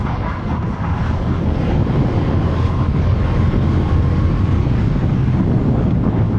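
A CFMOTO 450 CL-C automatic cruiser motorcycle in S mode on a mountain road, engine droning steadily under light throttle, heavily mixed with loud, constant wind rush across the microphone throughout, no speech.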